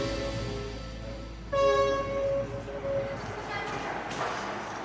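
A train at Turpan station gives a sustained tonal horn or whistle over rumbling rail noise, heard at moderate distance while people talk nearby.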